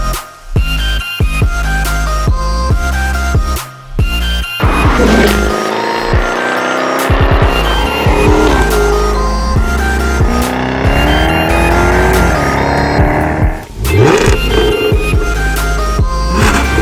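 A Jaguar F-Type sports car engine revs hard and roars through rising gear changes, loud and close, with sharp throttle blips and a brief pause near the end.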